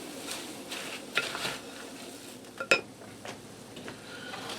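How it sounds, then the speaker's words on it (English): Taco hashbrown mixture is stirred in a large bowl: soft, scattered scraping with a few sharper clinks of a utensil against the bowl, quiet and close. "Stir this all together till I get it blended."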